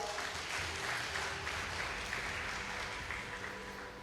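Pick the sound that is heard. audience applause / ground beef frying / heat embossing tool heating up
audience applause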